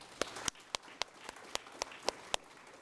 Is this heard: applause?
yes